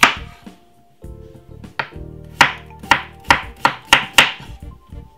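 A knife chops cucumber on a board in a quick series of about ten crisp, close cuts, speeding up toward the end, with no talking.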